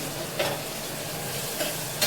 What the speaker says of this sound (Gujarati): જો શાક વઘાર નાખી.